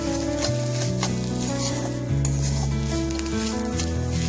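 A mashed potato snack seasoned with salt and turmeric fries in a pan, its steady sizzle running throughout beneath prominent tonal background music.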